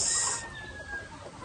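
White Leghorn chickens cluck in a breeding pen kept for fertile eggs. A brief, fairly close burst of fowl calls sits over a soft, steady pen background.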